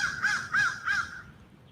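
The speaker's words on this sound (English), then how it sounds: "I wonder what that crow wants to say." A crow gives three evenly spaced, loud, clear caws, then falls silent.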